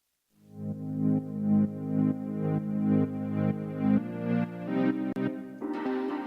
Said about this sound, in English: we have some pads here. Play those.